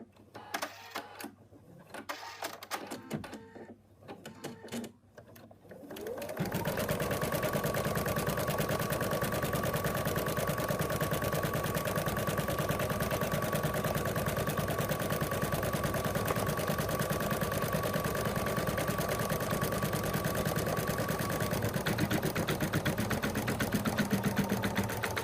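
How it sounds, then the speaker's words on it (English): A home embroidery machine stitches the outline of an in-the-hoop moose design, tracing the arms, legs and ears in one steady, loud, fast mechanical chatter that runs continuously after a brief quieter start. "It's now going to stitch out the last color, and that is going to do the outline of the arms and legs and the ears."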